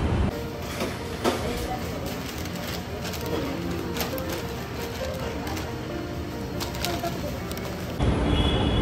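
Steady rumble and rattle of a Delhi metro train in motion, with crowd murmur and faint voices throughout, a louder shift near the end.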